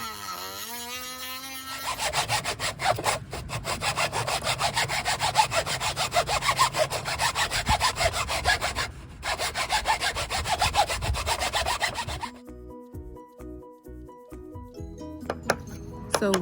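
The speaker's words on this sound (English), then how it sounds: "just use the handsaw to finish it up for me" A handsaw cuts through scrap wood in fast, steady back-and-forth rasping strokes, close and continuous for about ten seconds before stopping, with music playing underneath.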